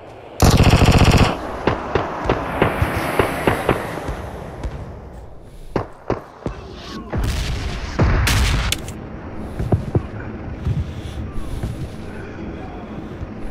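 Rapid machine gun bursts fill a video game firefight, loud and close, with scattered single shots and booms. Voices are faint underneath.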